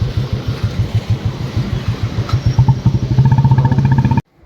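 Motorcycle engine running close by with a fast, regular chugging pulse that grows steadier and a little louder toward the end before cutting off abruptly.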